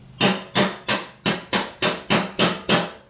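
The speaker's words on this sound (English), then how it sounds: "Get my hammer, got my punch." Hammer driving a punch against an old bearing on a Toro zero-turn mower spindle, eight sharp metallic knocks in steady rhythm, close and loud with no talk.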